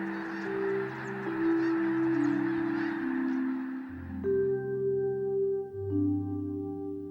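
A vast flock of about 20,000 snow geese lifting out of a field in the San Francisco Bay Area, a dense continuous wash of overlapping honks and calls, loud and steady throughout with no talking.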